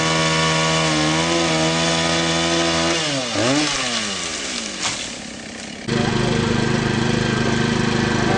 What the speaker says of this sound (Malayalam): മരങ്ങൾ മുറിച്ചു മാറ്റുന്നതിനുള്ള മോട്ടോർ കട്ടറുകൾ